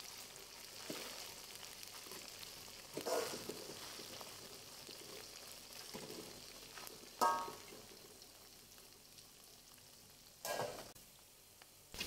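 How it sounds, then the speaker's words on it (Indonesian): Anchovies sizzle quietly in hot oil, a soft continuous crackle broken by a few brief louder stirring clatters. "Terinya ini akan saya goreng sampai setengah kering atau cukup sampai terinya matang merata saja"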